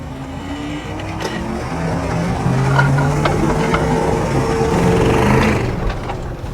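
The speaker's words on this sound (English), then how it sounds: "Should we do a launch on the garden?" A BMW X5 4.6is V8 with a slipping ZF5HP24 automatic transmission revs hard during a launch on garden grass, a steady engine drone rising in pitch and loudness, heard from outside the vehicle.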